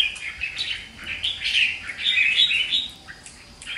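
A young, wild-caught red-whiskered bulbul (chào mào) sings in bright, clear phrases, near and loud, in bursts separated by brief pauses, with no voices.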